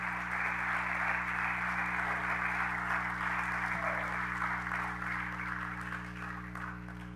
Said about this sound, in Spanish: Dele un aplauso al Señor si se lo quiere dar.